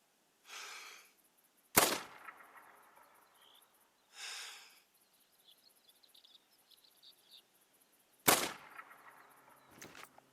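Virant .22LR rifle shots in theHunter: Call of the Wild, three sharp loud cracks spaced apart, with quieter rustling and faint insect chirps in between.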